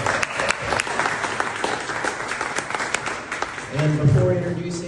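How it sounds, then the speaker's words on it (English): An audience claps warmly at a senator's event, a dense continuous patter of many hands that swells slightly toward the end, with a voice briefly audible over it. "Please, round of applause."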